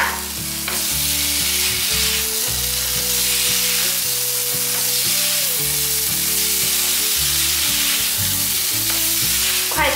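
Ingredients stir-fried in a wok over medium-high heat with vegetarian oyster sauce, salt, sugar and pepper, giving a loud, steady sizzle with stirring scrapes and clatter throughout, close and continuous, no talk.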